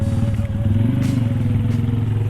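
A Kawasaki Ninja SS motorcycle engine hums steadily while being ridden on a touring trip, a loud, constant low drone with a faint whine and brief rushes of wind, no talk.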